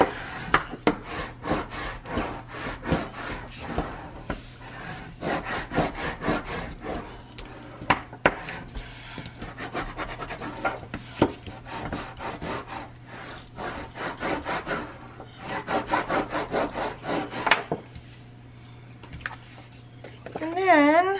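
A paper cover for a traveler's notebook is burnished with repeated dry rubbing strokes in bursts, close and fairly loud, while a person talks now and then over a low constant hum.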